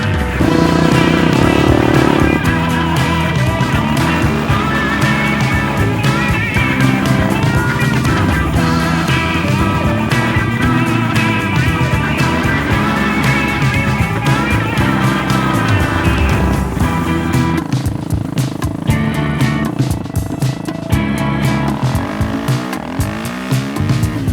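A BSE J10 motorcycle engine roars continuously while riding, rising and falling in pitch as it speeds up and slows, with some squealing tire-like noise.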